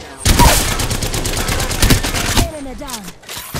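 Sustained automatic gunfire in the Apex Legends video game, a dense rapid burst of loud shots lasting about two seconds, then tapering into softer game effects and a faint voice.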